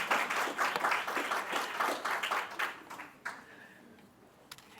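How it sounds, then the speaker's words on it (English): A school audience applauds for a few seconds, dense clapping that fades out, followed by a quiet room with a couple of faint knocks. "I think that deserves a round of applause."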